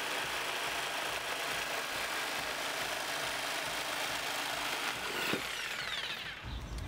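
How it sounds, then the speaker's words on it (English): A jigsaw cuts a drawn circle in a concrete-countertop table build, giving a continuous buzzing, rasping drone that holds steady and then winds down at the end. "But what we're going to use is a jigsaw."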